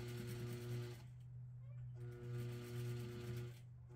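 A sewing machine stitching the cuff of a crepe wedding gown sleeve, humming in two steady close runs separated by a short pause.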